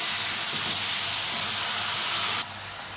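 Chicken frying in a pan, giving off a loud, continuous broadband sizzle close up that drops suddenly in brightness near the end, with no voices.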